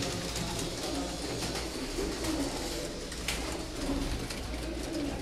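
Pigeons of a high-flying breed coo steadily through the clip, soft repeated low calls over a constant background hiss, with no talk.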